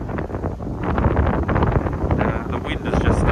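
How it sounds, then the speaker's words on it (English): Strong wind buffets the microphone at the National Wallace Monument in Scotland, a steady loud roaring rush with gusty swells throughout and no talking. "The wind has just started kicking up here, so it's now becoming quite cold."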